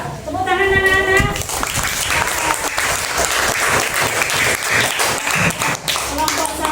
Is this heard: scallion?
no